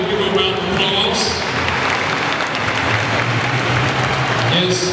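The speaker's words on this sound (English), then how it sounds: "She needs to be able to give a round of applause." Steady, dense clapping from a large crowd in San Antonio fills the whole stretch, loud and continuous, with a few voices mixed in.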